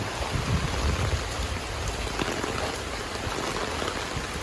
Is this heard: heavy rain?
yes